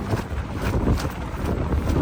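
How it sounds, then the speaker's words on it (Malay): Strong gusting wind at a seaside campsite by the southern sea fort buffets the microphone in a continuous, fluctuating roar with no talk. "Angin kencang memang mencabar betul."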